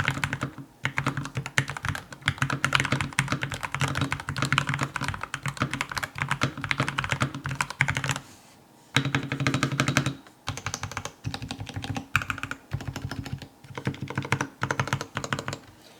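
Fast, steady clacking of a WhatGeek Dukharo VN96 mechanical keyboard's keys, close and continuous, with a couple of brief pauses partway through.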